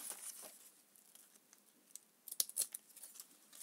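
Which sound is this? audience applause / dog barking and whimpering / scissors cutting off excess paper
scissors cutting off excess paper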